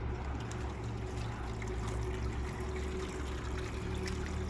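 Liquid product drains from an IBC tote on a sloped stand into a container, a continuous rushing, trickling pour that stays steady and fairly loud throughout, with no talking.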